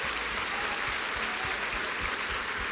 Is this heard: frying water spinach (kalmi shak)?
no